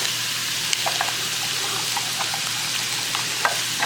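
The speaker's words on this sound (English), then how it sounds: "get a nice sizzle on our pan, looking good." Steady, close sizzle of onions and celery frying in a pan, with faint clicks and stirring sounds scattered through the hiss.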